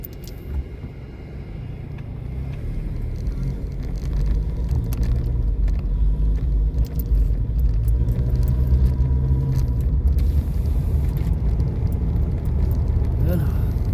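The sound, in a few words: car driving in road traffic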